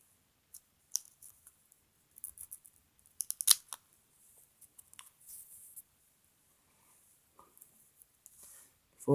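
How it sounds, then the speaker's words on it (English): Small scissors snip little segments out of a feather to shape a mini quill pen: faint, close, irregular clicks and crisp snips scattered across a quiet background, with no talk. "doing a branch design, where I take little segments, and I snip them out."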